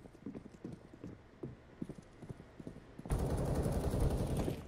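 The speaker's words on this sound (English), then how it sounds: "it's the horse and the generator" Horse hooves clop in an uneven rhythm in a video game, then a generator kicks in and its loud, steady mechanical roar takes over and masks the hoofbeats.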